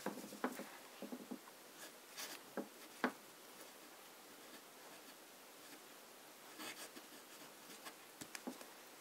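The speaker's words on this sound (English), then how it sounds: "Then we should do some normal writing with medium nib." Montblanc fountain pen with a medium nib writing on paper, faint scratchy strokes coming in short irregular bursts close by against a quiet hiss, no voices.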